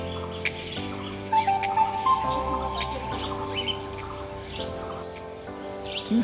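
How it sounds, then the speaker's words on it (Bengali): Many birds call and chirp around their nests at Kulik Bird Sanctuary in Raiganj, a busy overlapping chorus of short bright calls against a steady low hum. "সাথে দেখো কত পাখি বাসা করেছে।"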